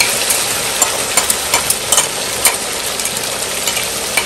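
Onions frying in oil in a pan for an Assamese fish recipe, a steady loud sizzle broken by regular scraping strokes of stirring, close up with no voices.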